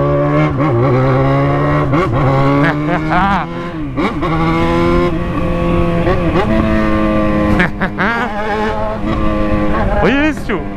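A Yamaha XJ motorcycle passes loudly on a street in the afternoon, its engine revving hard with rising and falling pitch sweeps through several gear changes, close and roaring throughout.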